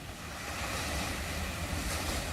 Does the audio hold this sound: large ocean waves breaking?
yes